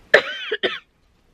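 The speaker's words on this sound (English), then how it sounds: "don't cough" A single sharp cough, close and clear, followed by a short throaty rasp and a second smaller cough burst, then silence.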